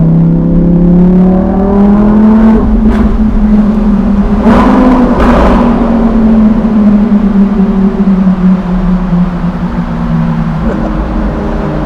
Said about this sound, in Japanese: 素晴らしい音を奏でるのもナチュラルアスピレーションエンジンだからっていうのもありますよね。